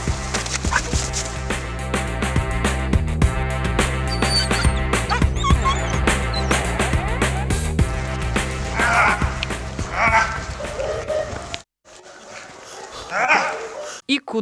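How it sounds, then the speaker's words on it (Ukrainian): A large 40-kilogram dog barks and whimpers steadily and close by, its loud, repeated calls layered over a dense, continuous background that drops out briefly near the end. "Думаю тільки про те, як за мною буде бігти 40-кілограмовий пес."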